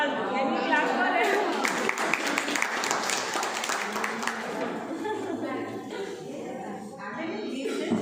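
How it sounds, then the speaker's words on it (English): An audience of children and adults at a school seminar breaks into steady clapping that fills the room, with voices talking over and around the applause. "Can we clap for him?"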